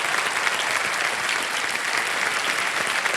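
A studio audience on the Hindi quiz show KBC Season 15 claps continuously, a dense and loud wall of steady applause with no breaks.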